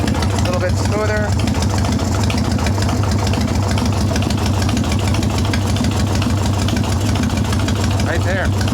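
Evo Softail motorcycle engine idling just after a carburetor adjustment, a steady low rumbling idle running throughout with brief voices heard over it.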